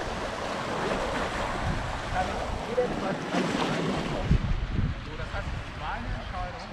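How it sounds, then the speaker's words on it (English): Waves wash and lap against rocks in a steady, close surf at Camp de Mar, Mallorca, with wind buffeting the microphone and a person talking over it. "Hear the lapping of the waves on the rocks here."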